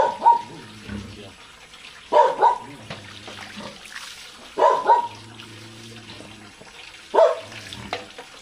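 A dog barks in short bursts at intervals, nearby, over running spring water splashing from a tap or spout at a well.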